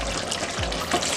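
Water poured into a pot while cooking chicken dum biryani, a steady close splashing stream running throughout the short moment with no talk.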